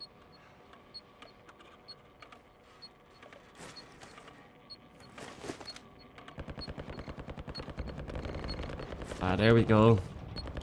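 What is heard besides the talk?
heavy gunfire in the video game Call of Duty DMZ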